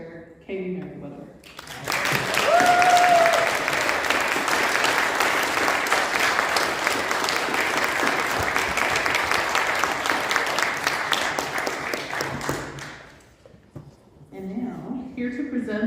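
Sustained audience applause at a community theatre awards ceremony, a dense wash of clapping lasting about ten seconds before fading, with a host speaking briefly before and after it.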